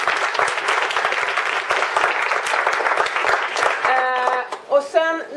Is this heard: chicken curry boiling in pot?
no